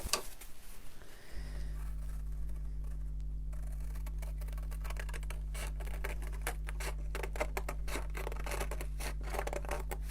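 Scissors snipping out simple paper shapes, close up, in a long run of quick, crisp cuts under a steady low hum, with no talking.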